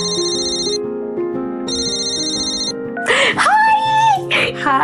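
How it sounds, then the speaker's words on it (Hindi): A phone ringtone for an incoming call from a grandmother, a bright electronic melody repeating in two bursts, followed by someone speaking over it. "तभी उसकी दादी का फोन आया"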